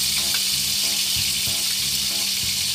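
Slices of white bread soaked in a dipping mixture sizzle in hot butter in a pan, a steady close frying hiss with soft periodic taps and clinks of the pan or utensil.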